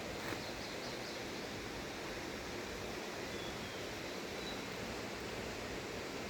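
Water rushes steadily at Gyogwijeong pavilion in Mungyeong Saejae, a constant broadband hiss like a stream or small waterfall nearby, unchanging throughout with no voices.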